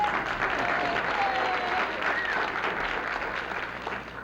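An audience at a neighborhood congress meeting applauds with a steady wash of clapping that sounds moderately distant and fairly soft.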